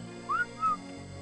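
A person whistles two short rising notes in quick succession, clear and close against a low steady background hum.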